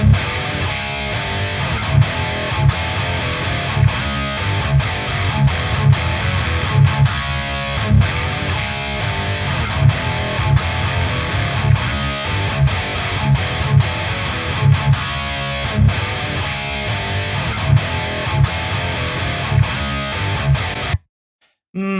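A heavily distorted electric guitar plays chugging, palm-muted riffs through a loud VTAR metal amp with its grain control turned up, sounding increasingly out of control, for about twenty seconds, then cuts off abruptly.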